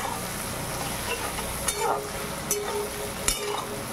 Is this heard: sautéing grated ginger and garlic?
yes